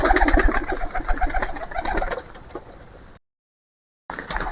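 Pigeons cooing in a dense, overlapping chorus at feeding time as the flock comes out, loud and close at first, then thinning, with a brief silent gap before the cooing returns.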